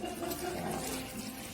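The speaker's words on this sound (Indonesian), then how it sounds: "Kemudian bersihkan menggunakan air mengalir." Tap water running steadily into a sink while someone rinses soap from their hands, a continuous soft, even splashing hiss with no talk.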